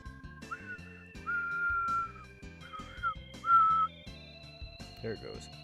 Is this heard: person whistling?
yes